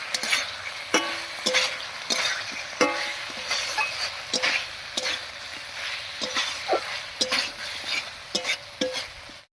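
Eggplant and potatoes are stirred with spices in hot oil in a pan, a soft continuous sizzle punctuated by sharp, regular scrapes and taps of a spatula against metal, close and without voices.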